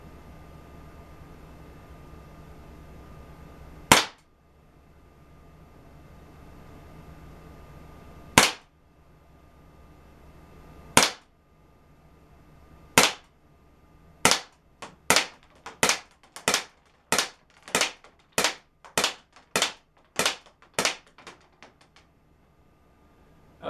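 A Walther PPK/S blowback airgun fires about fifteen sharp cracks, three widely spaced and then a faster, regular string, each a loud, close snap over a quiet background.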